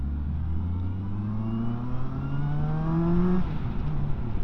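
A 2025 Benda LFC700 motorcycle pulling away from a junction, its raspy exhaust climbing steadily in pitch through the gears, close and loud with no talking.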